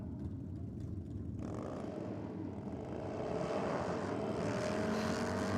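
Drag racing motorcycle at a bike night event launching off the start line with a wheelie, a loud, steady engine roar that swells louder midway, heard at a distance under broad noise.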